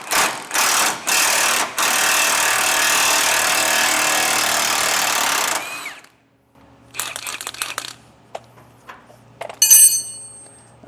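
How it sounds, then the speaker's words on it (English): Impact wrench hammering on a corroded trailer hanger bolt with a 13/16 socket on the bolt head, several short bursts then a long loud run, followed by quieter clanks and handling noise. "So I've got my impact on here, and on the bolt head side I'm using 13/16."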